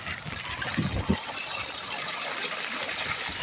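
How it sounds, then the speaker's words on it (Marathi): Floodwater from heavy monsoon rain in Konkan rushes and gushes steadily and loudly, a constant churning flow close by with no pauses. "हे पाणी बघा कसं वाहत आहे"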